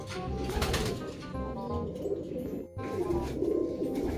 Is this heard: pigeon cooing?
yes